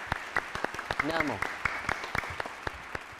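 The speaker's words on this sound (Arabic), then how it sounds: "يلا صفقوا صفقوا براكم نايمين" Children in a studio for a kids' television program clap in quick, uneven bursts, close and fairly loud, with a short spoken word breaking in partway through.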